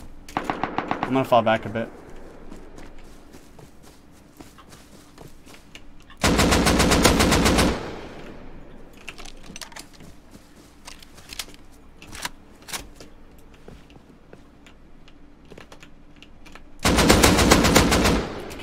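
Automatic AK rifle fire in the game Rust, two loud sustained bursts of rapid shots mid-clip and near the end, with scattered single shots between and a player talking over the fighting.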